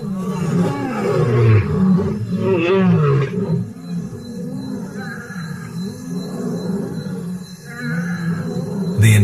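A pride of lions roars together to warn off intruding nomad lions, a powerful layered wall of deep, rumbling roars and grunts rising and falling continuously, loud and close with overlapping voices.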